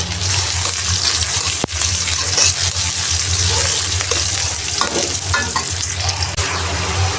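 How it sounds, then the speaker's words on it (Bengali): Garlic and onion fry in hot oil in a pan, giving a loud, steady broadband sizzle with scraping stirs and one sharp knock near the start. No one talks. "তেলের ওপর রসুন পেঁয়াজ দিয়ে দিয়েছি"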